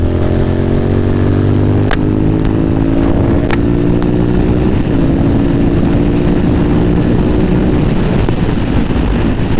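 Sport bike at full throttle, ridden with the visor open: a loud, continuous engine roar climbing steadily in pitch with heavy wind rush throughout, and a couple of sharp slams as the visor snaps shut.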